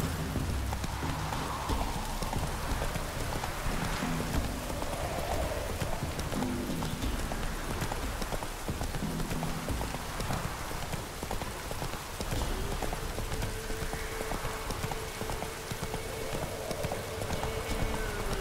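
A horse gallops through the rain in The Witcher 3 with a steady, rhythmic clip-clop of hooves beneath a constant hiss of rainfall, lasting the whole stretch at moderate loudness.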